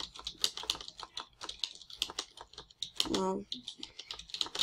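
Rapid, uneven keyboard clicks of someone typing a message on a computer keyboard, close and fairly quiet, continuing throughout while a voice briefly speaks over them.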